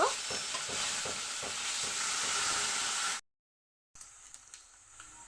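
A ground paste of dry chilli, ginger and radhuni fries in hot oil with bay leaf, a loud steady sizzle with rhythmic spatula scrapes that stops abruptly, then a quieter sizzle resumes.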